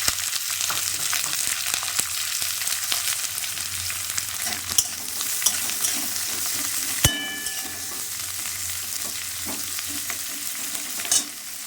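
Onions stirred into hot oil with fried chili and ginger, a steady crackling sizzle with scraping spatula strokes and a few sharp utensil clicks, close and continuous with no talk.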